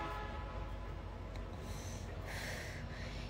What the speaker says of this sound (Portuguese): Aqui atrás tem a linha do trem. Aqueles trem de carga